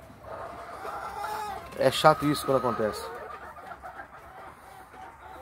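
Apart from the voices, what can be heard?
injured hen clucking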